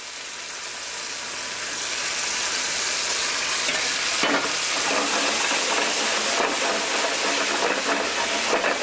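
Gnocchi with scooped marinara sauce sautéing in a hot pan, a steady broad sizzle and hiss that builds over the first two seconds and holds loud and close, with a few faint stirring scrapes.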